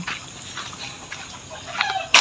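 Dogs whimper and yip faintly in short scattered bursts, ending with a sudden louder rustle.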